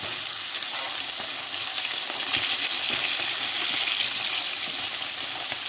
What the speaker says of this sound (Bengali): মাছটাকে আমি আবারও ওপিঠটা আমি ভাজতে উল্টে দিলাম